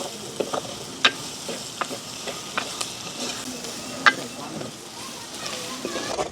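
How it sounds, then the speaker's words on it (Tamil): Onions and dried red chillies fry in oil for a tempering, a soft continuous sizzle broken by sharp clinks and scrapes of a spoon stirring the pan, with faint speech in the background. "வெங்காயம் இன்னும் கொஞ்சம் பொரியட்டுக்கும் எங்களுக்கு"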